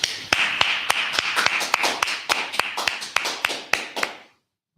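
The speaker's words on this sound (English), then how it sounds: "let's clap it up" A group claps in unison at a brotherhood class, about fifteen sharp, close claps in a steady accelerating rhythm, ending abruptly in silence.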